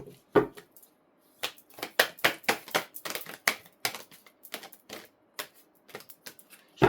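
Tarot cards handled and shuffled by hand in quick, uneven bursts of crisp slaps and riffles, close and dry with brief pauses between, no talking.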